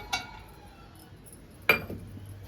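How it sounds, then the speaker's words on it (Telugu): Dry roasting peanuts tipped into a heated kadai on a gas stove for peanut chutney, giving two brief, close clattering rattles with quiet between them and no talk. "బాండి వేడైంది ఏడిసిన పప్పులు వేసుకుంటుంటా నేను"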